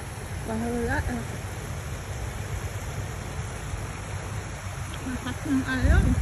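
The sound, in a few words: river waves and rushing water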